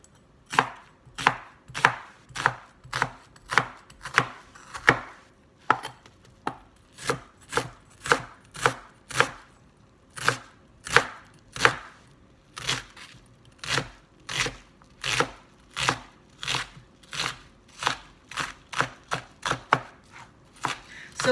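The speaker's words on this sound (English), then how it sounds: "You want to mince it up." Half an onion being minced with a knife on a cutting board, a steady run of crisp, evenly spaced chops close up, with a short pause partway through and no talking.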